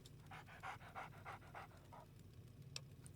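A dog pants in Fallout 3, a quick run of about eight rhythmic breathy huffs that then stops, soft and close over a low ambient hum.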